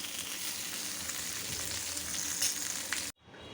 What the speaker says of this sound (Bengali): বেগুন ভাজাটা একটু উল্টায় দিই, কেন বেগুনটা তাড়াতাড়ি পুড়ে যায়।